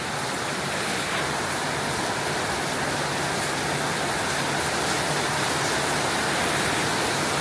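Heavy rain pours at night in Canggu, a dense, continuous roar of falling water with no voices.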